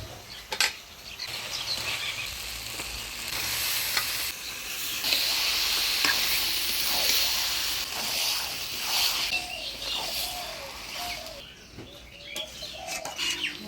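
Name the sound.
spice paste being sautéed in a pan with gizzards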